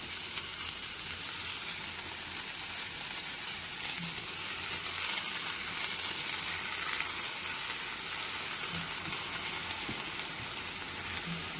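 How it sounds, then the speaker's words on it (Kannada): Chopped fenugreek leaves hit a hot pan, raising a loud, steady sizzle that hisses on unbroken and close by, with no talk. "ಇವಾಗ ಕಟ್ ಮಾಡಿಟ್ಟಿದ್ವಲ್ಲ ಇದನ್ನು ಮೆಂತ್ಯ ಸೊಪ್ಪನ್ನ ಹಾಕಬೇಕು"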